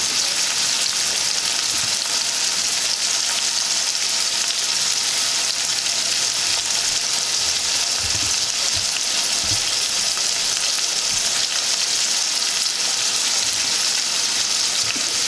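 Ingredients for Jamaican ackee and saltfish fry in a pan over a stove flame, giving off a loud, steady hissing sizzle with occasional soft bumps and stirring clatter, with no talking.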